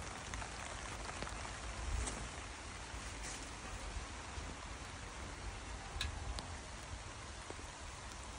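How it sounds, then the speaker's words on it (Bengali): Rain falls steadily on a garden in Portsmouth, UK, as a dense, even patter with scattered louder drips and ticks. It holds at a constant moderate level throughout, with no voices. "বৃষ্টি পড়ে, রহমতের বৃষ্টি"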